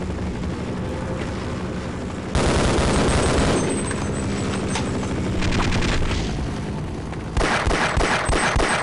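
Enemy gunfire in the video game Half-Life, with dense bursts of rapid automatic shots and booms that start suddenly, fade and then return loud near the end.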